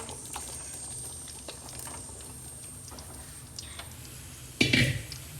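Carrots frying in hot oil for a homemade pickle, a steady soft sizzle and crackle running throughout, with a louder clatter of a utensil or pan near the end.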